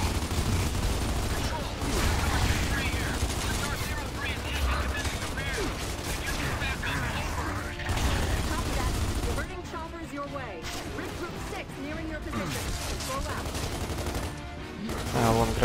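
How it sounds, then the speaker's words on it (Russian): Gunfire in the video game Gears of War 2 on Xbox One X: dense, continuous rattling bursts of automatic fire and impacts, loud and unbroken throughout, with a voice talking underneath. "Хватит стрелять в меня."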